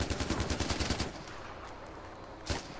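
Enemy gunfire in Far Cry 4 (PS4) crackles in a fast, loud automatic burst for about a second, then drops to a quieter background before one more sharp shot near the end.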